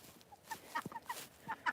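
Ducks on a ranch at dusk, giving soft scattered quacks and chirpy calls, fairly close and faint, as they feed among farm animals.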